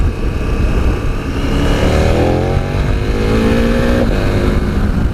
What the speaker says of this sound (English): Man, this bike's got some go for a big machine.